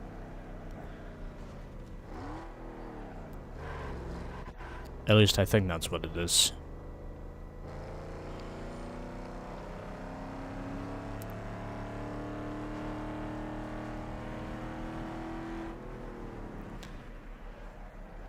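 An SUV engine in Need for Speed Underground 2 hums and whirs steadily through a replay, with a short loud burst partway in. Someone talks over much of it.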